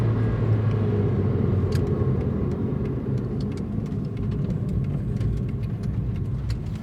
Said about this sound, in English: Somebody's just passed in a Honda CR-V